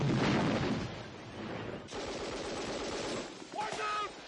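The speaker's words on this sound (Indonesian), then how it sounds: "Di dalam sengitnya baku tembak" Dense machine gun and rifle fire from a Vietnam War film battle against NVA troops, loud and continuous with rapid overlapping bursts throughout; a narrator's voice briefly begins over the shooting near the end.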